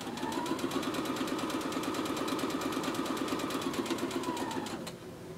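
A sewing machine runs steadily, stitching quilt fabric pieces for a gallery wall quilt with a fast, even mechanical rattle that holds for about five seconds, then stops abruptly, leaving only a faint room hum.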